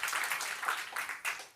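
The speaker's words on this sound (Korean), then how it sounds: "박수 한번." A church congregation at a Sunday worship service bursts into brief, dense applause, a close wash of many hands clapping in waves that swell and fade.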